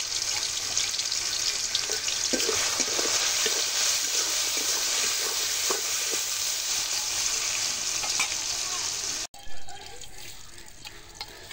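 Potatoes fry in oil with salt and turmeric, giving a steady, loud sizzling hiss that runs without a break for about nine seconds. It then cuts off and gives way to a quieter, different background.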